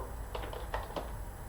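A few quick, soft keystrokes on a computer keyboard tap out a short irregular burst, faint and close in a quiet room with no talking.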